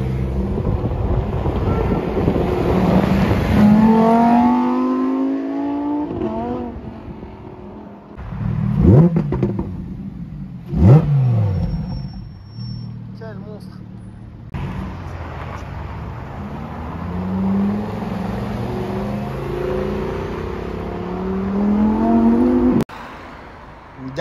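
A Lamborghini Huracan STO engine revs repeatedly on a Paris street, rising and falling in sharp bursts with a deep roar and whining upper tones, loud and close with some wind noise.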